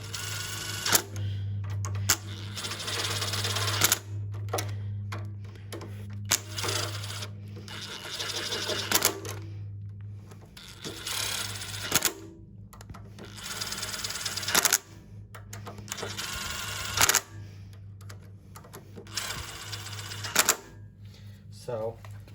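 Bolts being driven into an AR RCV3G27 pump from a Vortexx pressure washer, heard as bursts of rapid mechanical rattling from a power tool, repeated many times with short pauses, close and fairly loud, with a steady hum underneath.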